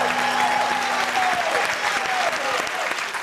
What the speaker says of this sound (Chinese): 来，掌声鼓励鼓励。